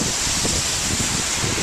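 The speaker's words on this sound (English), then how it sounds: "You can see how windy it is." Strong wind from Tropical Storm Debby near the bay at Bradenton and Anna Maria Island buffets the microphone in a loud, dense, steady roar with no voices.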